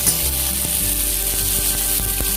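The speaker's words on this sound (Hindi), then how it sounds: "और ये टमाटर डाल दूंगा और इसको मैं अच्छी तरीके से फ्राई कर लूंगा" Onion and tomato fry in hot oil in a pan, giving a steady loud sizzle with a few stirring knocks, close and without voices.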